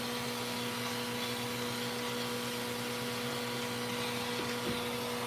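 Pet grooming vacuum running steadily on its lowest setting during a puppy's first trim, a continuous even motor hum with a constant tone, close and unbroken throughout with no talking.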